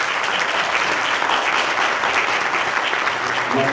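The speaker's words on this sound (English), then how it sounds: "Can we give her a round of applause?" A school board meeting audience applauds, a steady, dense clapping that holds at even volume throughout with no voices over it.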